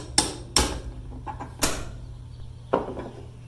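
Hammer blows on a drift punch against a steel magazine lip clamped in a vise: four sharp metallic strikes spaced unevenly, close and loud.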